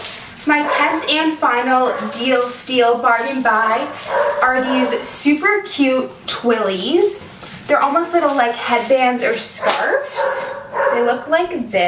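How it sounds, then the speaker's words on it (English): A pet dog barks in the background of a home while someone talks steadily in the foreground, the barking mostly masked beneath her voice. "Sorry about my dog barking in the back."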